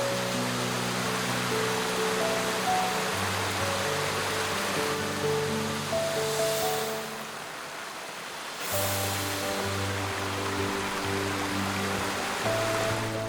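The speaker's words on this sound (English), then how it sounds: "The powerful waterfalls here are the result of the water features." Powerful waterfalls of the historic water features in the Kassel Wilhelmshöhe mountain park, a continuous loud rushing roar with a brief dip midway, without talk.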